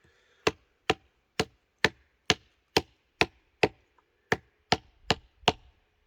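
A hatchet chops into wood while a spoon is carved, giving about a dozen sharp, evenly spaced thwacks, close and loud, with no talk.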